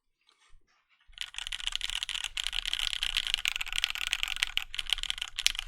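Steady typing on a custom-built Gehirn mechanical keyboard, a dense run of crisp, clacky keystrokes heard up close and alone after a quiet start.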